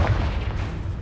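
Confringo blasting spell exploding in Hogwarts Legacy during a dragon fight: a loud, close, low boom that swells at once and rolls on as a rumbling blast, with no voices.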